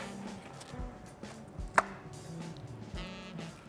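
A knife cuts along the first rib of a venison saddle, giving a few soft chopping knocks and a single sharp crack midway, with quiet scraping between them at close range.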